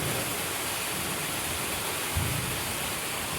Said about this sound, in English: Apparently we're getting rained on real good.